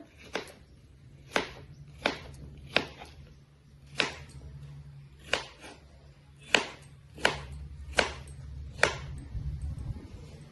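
A knife chops cucumber on a cutting board in about ten sharp, evenly spaced strikes, close and clear over a low steady hum.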